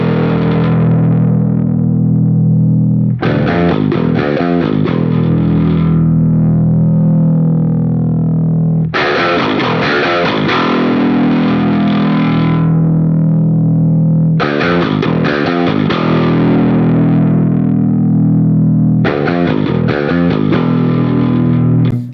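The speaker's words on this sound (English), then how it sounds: "the dry setting on this pedal is going to introduce more of your clean guitar DI in parallel with the TS-808 overdrive settings" Guitar driven through an Origin Effects Halcyon Green Overdrive with the dry blend raised into a clean amp, loud thick strummed chords in sustained phrases separated by short gaps, with no talking.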